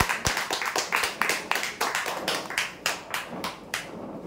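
An audience at a weekly prize draw claps for the winners. The clapping is steady and uneven, with distinct individual hand claps at moderate volume from a small group, and no talking.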